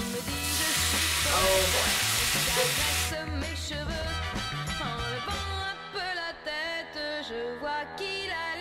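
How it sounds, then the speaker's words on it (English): Tomatoes and peppers fry in a pan with a loud, dense sizzle that surges as they go in, then settles into a softer crackle under background music, with a brief voice. "I'm going to add the tomatoes to the peppers because the juices from the tomatoes will probably aid in the cooking of the peppers"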